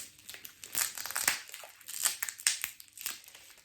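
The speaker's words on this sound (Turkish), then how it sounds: "Bayağı bir zor açılacak bu belli. Ee, çok sıkı bantlamışlar çünkü." A tightly taped parcel is opened up close, producing irregular bursts of crinkling, crushing and tearing as the tape and packaging are pulled apart, with no talking.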